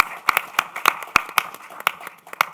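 Scattered hand claps from a small conference audience at a city resilience financing event, a dozen or so sharp separate claps spread over a couple of seconds rather than full sustained applause.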